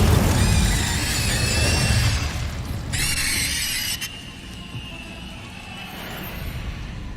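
Incendio fire spell cast in the Hogwarts Legacy video game: a loud rushing, roaring blast with a sharp flare of hiss near the three-second mark, then a fading crackling tail, with no talk.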